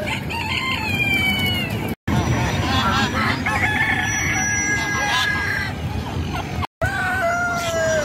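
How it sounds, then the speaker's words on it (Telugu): Fighting roosters crow in repeated harmonic calls with a few clucks between them. The sound is close and moderately loud, broken by two brief drops to silence. "అన్ని పందెం కోళ్ళు"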